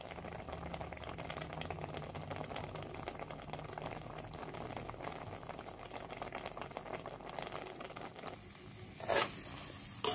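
Semolina halwa with raisins cooks on the stove with a dense, continuous bubbling and sizzling, with a short louder scrape or rattle near the end.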